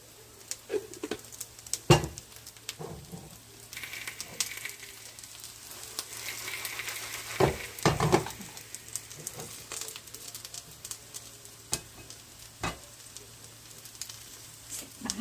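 Oil sizzles and patters in a pan as a yam pancake fries, a steady crackle broken by a few louder spatters and stirring scrapes, with no talk heard over it.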